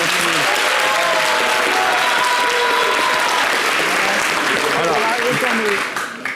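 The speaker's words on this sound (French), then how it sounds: "je vais demander aussi à mes amis de vous applaudir" An audience gives loud, sustained applause, with dense clapping and scattered voices that continue until a brief fade at the very end.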